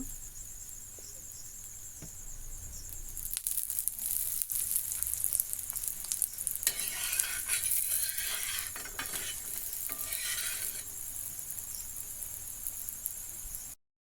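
An aloo paratha fries in a little oil on a hot griddle after being flipped, giving a continuous close hiss with a faint ticking, crackling texture that swells and then eases before cutting off.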